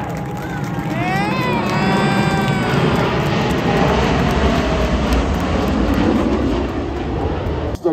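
Blue Angels flight demonstration jets pass overhead at a naval aviation museum, a loud sustained roar with shifting pitch and rumble, while people talk over it.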